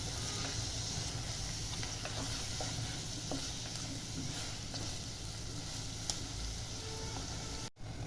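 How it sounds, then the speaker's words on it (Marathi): Wet ground masala paste sautés in a pan with tomatoes for a ghee chicken gravy, giving a soft, steady sizzle and hiss at low level with faint stirring, one brief dropout near the end. "त्यात ओलं वाटण ॲड करायचं आहे आणि हे सुद्धा छान परतून घ्यायचं आहे"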